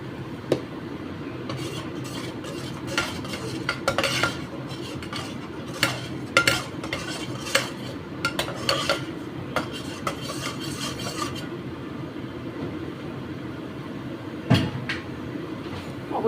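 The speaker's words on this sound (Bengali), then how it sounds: "রসুন, গোটা গরম মশলা, ঘি, দই একসাথে এটা কষছে" Mutton korma being sautéed with garlic, whole garam masala, ghee and yogurt in a handi, giving a low steady cooking bed broken by repeated clinks and scrapes of a spoon stirring against the pot, up close with no talk.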